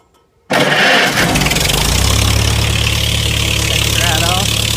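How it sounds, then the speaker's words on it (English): An antique Farmall H tractor engine cranks and catches after near silence, quickly settling into a loud, close, steady idle with a low throbbing rumble; a voice talks briefly over it. "it's a little temperamental about firing up here, but it should take right off."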